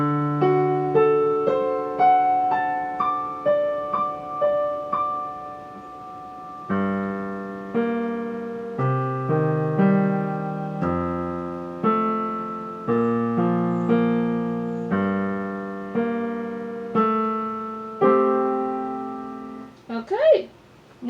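Second line of a piece played on piano, opening on D: flowing broken-chord arpeggios and sustained melody notes in a gentle, steady pulse, close and clear, ending with a brief bump of handling noise.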